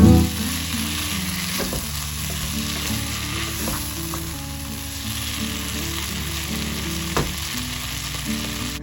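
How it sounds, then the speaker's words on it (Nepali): Boiled chickpeas and potatoes fry in a pan with turmeric for a Nepali thukpa, a loud steady sizzle with stirring scrapes throughout and no talking. "चना र आलुलाई 3-4 मिनेट मजाले भुटिसकेपछि"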